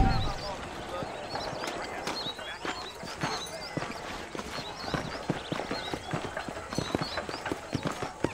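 Horse hooves clip-clop steadily in Red Dead Redemption, a fast, strong dark brown horse with a light mane, the quick regular beats close and clear, with a few distant high chirps and someone talking over parts of it.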